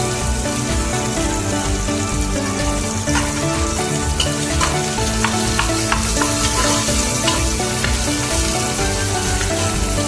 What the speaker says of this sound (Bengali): দিয়ে সামান্য একটু নেড়ে নেব, ওই লাল করে ভাজা যাবে না